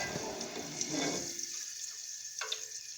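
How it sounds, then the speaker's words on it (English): Running water splashes and pours steadily as it drains from soaked potatoes, then tapers off into a thin trickle with a brief drip near the end. "draining off any excess water."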